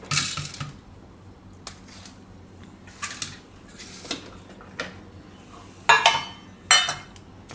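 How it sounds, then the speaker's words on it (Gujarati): A knife cuts a capsicum into pieces on a kitchen board, giving a series of light, irregular clicks and taps, with a few sharper knocks near the end, quiet and close with no talking. "તો આ કેપ્સિકમ એને આપણે ટુકડા કરી લે"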